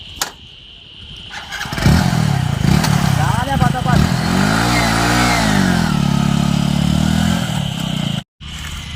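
A motorcycle engine starts and revs up and down, loud and close, while someone talks over it; the engine cuts briefly near the end.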